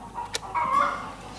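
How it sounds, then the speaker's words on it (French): Farm hens cluck with a short rising cackle, fairly close and moderately loud over faint background noise, followed by a brief soft tail. "Ce sont des poules qui caquettent."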